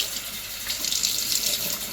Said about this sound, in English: Fill it out with water and let it do it.